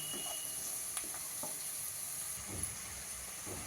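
Onions fry in a pan for a potato curry, a steady, fairly faint hiss and sizzle running throughout with a few soft stirring touches.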